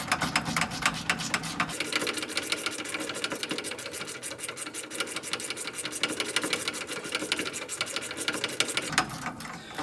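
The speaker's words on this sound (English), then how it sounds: "It's one of my favorite ratchets. This one's a snap-on." A Snap-on flex-head ratchet works a bolt loose on a 2000 Nissan Frontier Crew Cab 4x4 driveshaft support bearing, giving a fast, continuous stream of close ratcheting clicks for nearly ten seconds without pause.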